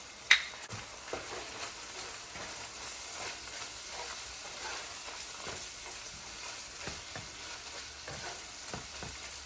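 Two pounds of seasoned ground beef for enchiladas frying in a pan, a steady close sizzle with repeated soft scraping strokes as a utensil breaks up the meat, a sharp clink at the start, no voices.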